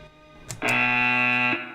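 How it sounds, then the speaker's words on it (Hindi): An alarm blares loud and steady for about a second, a sustained buzzing electronic tone that starts abruptly after a short bang and cuts off sharply, set in a military robot training facility. "ये अलार्म है।"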